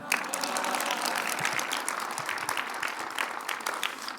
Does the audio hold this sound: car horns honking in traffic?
no